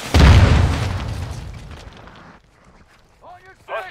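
A smoke grenade going off in Call of Duty MW2, a loud close low boom that decays into a long fading hiss, followed by a voice speaking.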